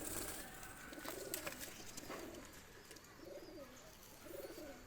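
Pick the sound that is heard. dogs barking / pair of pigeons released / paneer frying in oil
pair of pigeons released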